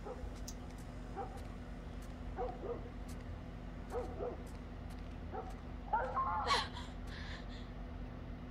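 A dog in The Last of Us gives a few short barks and yips spaced over several seconds, then a louder whimpering cry, moderately distant over a low hum of game ambience.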